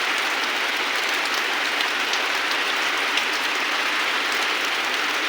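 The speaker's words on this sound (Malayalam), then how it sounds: "നമ്മുടെ ഇവിടെ നല്ല മഴ, നല്ല തണുപ്പ്" Heavy rain falls steadily in a continuous dense hiss of drops, loud and close, with no pauses and no voices over it.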